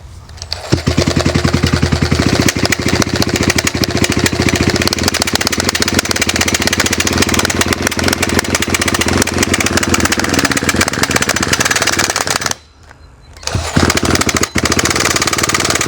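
A Raptor 90 model helicopter engine runs loud and close on its test stand, holding a steady buzzing drone that dips briefly to near silence before roaring back.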